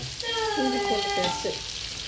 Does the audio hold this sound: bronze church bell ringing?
no